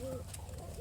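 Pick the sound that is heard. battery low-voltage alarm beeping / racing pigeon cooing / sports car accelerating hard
racing pigeon cooing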